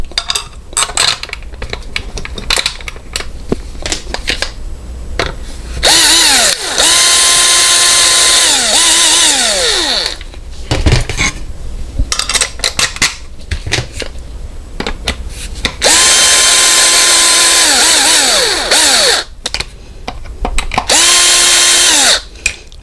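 A power drill drives bolts back into a Schlage electronic deadbolt in several separate bursts, each whirring and rising in pitch before stopping, with quiet handling clicks and rattles in the gaps.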